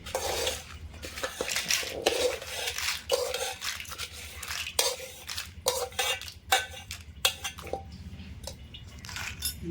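Cucumber and dried red chilli chutney being ground by hand: uneven knocking, scraping and clinking of a pestle or utensil against a vessel, close and fairly loud, with no talking.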